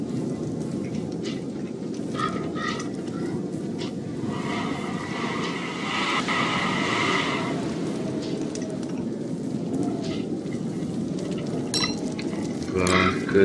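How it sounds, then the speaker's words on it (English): Food cooking in the video game Don't Starve, a steady soft bubbling and stirring texture with some brighter tones mixed in, continuing at moderate level throughout. "Cook some food."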